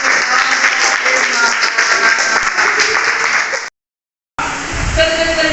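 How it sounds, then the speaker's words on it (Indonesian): Classroom applause after a group presentation: broad clapping from students, steady for several seconds, cut by a brief dead silence, then resuming with some voices mixed in. "Oke, tepuk tangan dulu."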